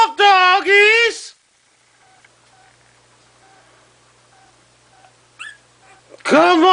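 Puppies from a litter of eight let out high, wavering whimpers and yips in two short bursts, separated by a quiet stretch with faint squeaks, and a person speaks in between.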